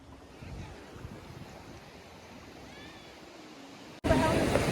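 Sea waves wash and rumble nearby in a soft, continuous surge with wind noise, fairly faint, before a sudden louder burst of sound at the end.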